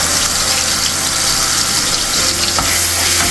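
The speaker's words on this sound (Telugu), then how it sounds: "మనం ఈ వేడి ఆయిల్లోనే ఇందాక మనం మిక్సీకి వేసి పెట్టుకున్న అల్లం పేస్ట్ ఒక 2 స్పూన్లు వేసుకున్నామండి" Two spoons of ginger paste sizzle loudly in hot oil, a dense continuous frying hiss with stirring throughout and no talk.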